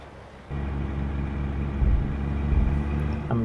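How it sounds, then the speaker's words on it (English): A Kenworth T680 truck engine in American Truck Simulator rumbles steadily at close range, a deep, loud drone that rises in level after a moment and holds alone. "Loving the sound of this truck"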